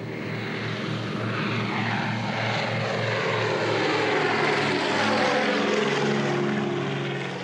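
A propeller-driven seaplane, an American aircraft designed in the 1930s and later used as a water bomber, drones loudly overhead with a steady, throbbing engine roar that holds close and constant throughout.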